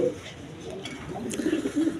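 Satin pigeons coo in low, soft, repeated bursts at close range, with a faint murmur of other birds and room noise behind them.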